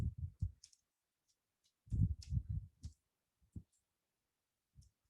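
A slow computer keyboard clicks in quiet, irregular bursts of typing, with a flurry of keystrokes in the middle and scattered single taps around it.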